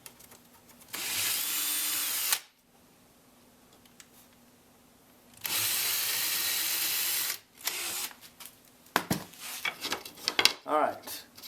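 Power drill boring pilot holes for a wagon fishing rod holder in a shop, two bursts of steady high whine about two seconds each, separated by quiet, then scattered handling clatter.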